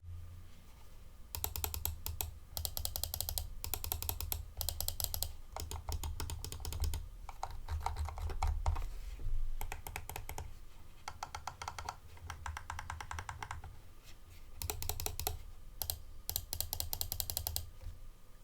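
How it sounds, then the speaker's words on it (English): Button and switch clicks on a Dream Machines DM1 S2 gaming mouse come in quick, crisp bursts separated by short pauses, close and fairly quiet, with no talking. "here is a noise sample of how the buttons and switches sound like on the DM1 S2"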